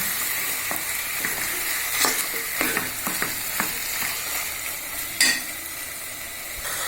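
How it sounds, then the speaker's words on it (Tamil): Chicken pieces sautéing in a pan for chicken kulambu, a steady close sizzle of frying with occasional sharp clicks and scrapes of a spoon stirring against the pan, no voices. "சிக்கனை போட்டுடலாம். இதையும் போட்டு நல்லா வதக்கணுங்க."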